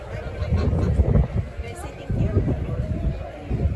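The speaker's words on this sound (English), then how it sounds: "It's a goose." A goose at a Renaissance festival gives a few low honks amid a busy murmur of crowd chatter, with people talking nearby throughout.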